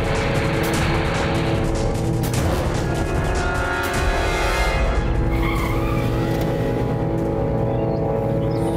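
A car roars away with tires squealing and skidding, loud and close, the engine note rising and sweeping as it speeds off continuously over several seconds.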